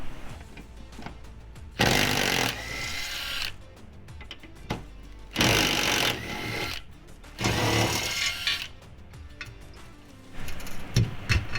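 Power tool loosening bolts on the backseat of a Jeep Wrangler LJR, heard as several loud, close bursts of whirring impact, each lasting about a second, separated by quieter pauses.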